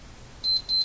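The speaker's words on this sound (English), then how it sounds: "You're beeping too much." Two short, high-pitched electronic beeps in quick succession from a meter while testing a Canadian General Electric Model A55Z radio, clear and close, against near silence.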